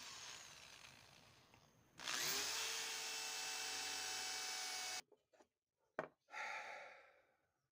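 A power drill bores a hole in wood for a wooden fish craft, a loud steady whine lasting a few seconds close by, preceded by a fainter motor hum and followed by brief clatters and a short spin-down.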